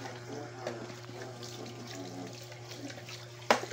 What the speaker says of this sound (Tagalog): Pinggan lang niya pala yung hinuhugasan.